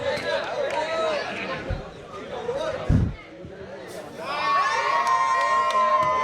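Crowd at a Sai Nagar Premier League cricket prize distribution ceremony cheering and shouting, with children's voices, claps and whoops mixed into a loud, continuous din of chatter.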